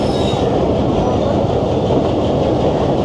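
A train pulling into Havelian railway station, the last stop on the line from Rawalpindi, with a loud continuous rumble and clatter of carriages and wheels, heard from on board.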